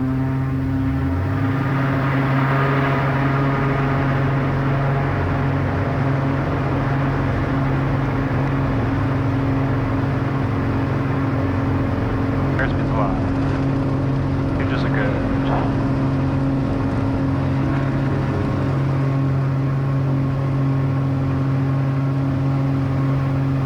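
Twin-engine Cessna Skymaster accelerating on its takeoff roll down a runway, heard as a steady, loud propeller drone from inside the cabin, with radio-style voices talking over it.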